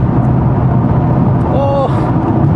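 A 2014 Audi RS6 under throttle, its engine giving a continuous deep, loud drone as it accelerates, heard from inside with a voice speaking over it.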